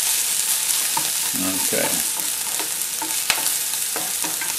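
Bacon and apple pieces frying in a pan, a steady broadband sizzle with scattered utensil scrapes and clicks, close and fairly loud, with one brief spoken word near the start.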